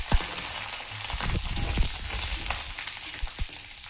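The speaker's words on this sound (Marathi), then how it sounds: "सगळ्यात पहिले कढीपत्ता टाकूया, त्यानंतर खडा मसाला" Curry leaves and whole spices hit hot oil, setting off a busy, close crackling sizzle with scattered sharp pops over a constant hiss.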